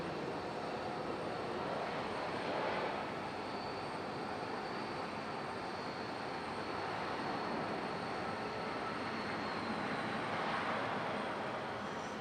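A Delta CRJ regional jet at Raleigh-Durham airport, its engines giving a steady, broad roar at a moderate distance that holds evenly throughout without talk.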